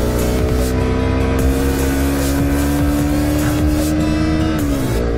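Engine pulling hard at full throttle in second gear during a motorcycle ride, a loud, steady drone with harmonics slowly rising in pitch, close and continuous, then easing off near the end.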